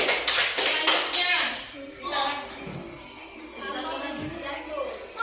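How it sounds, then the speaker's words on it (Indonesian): Hands clapping in a classroom during a teacher's lesson on the heart, a short burst of claps near the start that fades, with children's voices and shuffling carrying on underneath. "Tepuk tangan dulu."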